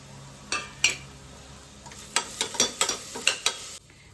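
Turmeric, biryani masala and Kashmiri chili powder fry and get stirred in a pan for soya biryani, giving a soft sizzle broken by several sharp clinks and scrapes of a spoon, most bunched toward the end.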